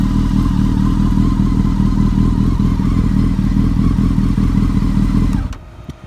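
A 2007 Honda 919 motorcycle engine revs loud and close, a steady high-rpm roar that holds for about five seconds before it drops away abruptly.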